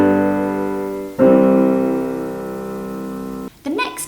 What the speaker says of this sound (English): A perfect cadence might sound like this.